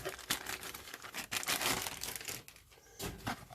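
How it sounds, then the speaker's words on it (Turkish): A Decathlon Btwin 940 fork and shock pump is pulled out of its plastic bag, giving close, continuous crinkling and rustling with a few sharper crackles and brief pauses. "Poşetinden çıkartıyoruz."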